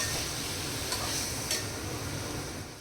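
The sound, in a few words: marinated chicken sautéed in a pan on low heat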